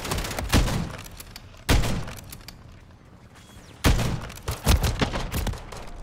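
Gunfire and explosions in a multiplayer shooter video game: several sharp, loud blasts and booms, with bursts of scattered shots between them and quieter stretches.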